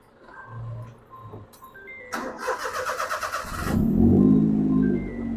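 A Perodua Viva car engine cranks in a fast, pulsing burst, then catches and settles into a steady, close running rumble.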